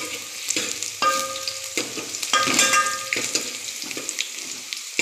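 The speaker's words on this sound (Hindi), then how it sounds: "तो देख सकते हैं अच्छे से फ्राई हो रही है।" Vegetables frying in a pan give a steady sizzle with bursts of stirring and scraping, close and fairly loud, with no talking.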